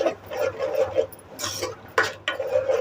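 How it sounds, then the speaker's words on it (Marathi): Tomato paste being fried and stirred in hot oil in a pan for pav bhaji, heard as close, uneven bursts of scraping and stirring with brief pauses between strokes. "हे पण चांगलं असं तळून घ्यायचं म्हणजे फ्राय करून घ्यायचं"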